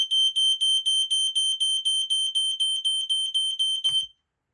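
A first-generation Kidde 0915K ionization smoke alarm sounds its test: a loud, piercing, evenly pulsed electronic beep repeating at a fairly slow rate for about four seconds, then stopping abruptly with a small click.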